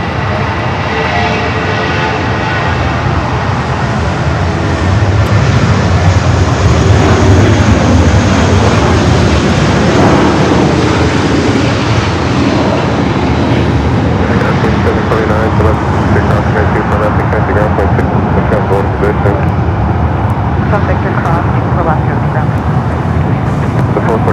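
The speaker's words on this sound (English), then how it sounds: "we got a United A320, the older livery, rolling down the 24 left" A United Airbus A320 in older livery takes off down runway 24 left at LAX, a loud continuous jet engine roar that swells and holds steady throughout, with faint traffic rumble beneath and a voice talking over it.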